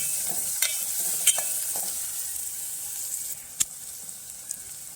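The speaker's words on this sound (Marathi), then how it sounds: "कांदा छान असा परतलून घ्यायचा आहे थोडीशी कोथिंबीर घालते फोडणीमध्ये ती सुद्धा परतलून घ्यायचे आहे" Onion and coriander sauté in hot oil tempering for Kolhapuri-style misal, a steady soft sizzle broken by a few sharp clicks of a spoon stirring against the pan.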